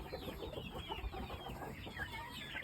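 A Shamo rooster clucks while being handled, soft broken clucks close by amid rustling and handling noise.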